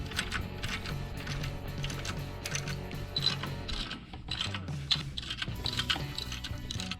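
A fitting is threaded into an engine valve cover for a crankcase vent, giving quiet, close ratcheting clicks and small metallic taps that repeat irregularly over several seconds without speech.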